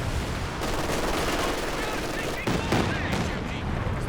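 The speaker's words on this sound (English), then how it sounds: "Here we go, a good bit of Katyusha action." Katyusha rocket artillery salvo in Company of Heroes 2 on a winter map, a dense, continuous roar of rapid launches and blasts filling the clip, loud and close, with a sharper burst near the end.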